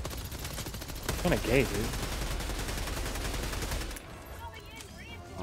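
Rapid automatic gunfire from shooting enemies in Helldivers 2 rattles continuously and loud for about four seconds, then cuts off to quieter game sounds, while someone talks briefly over it.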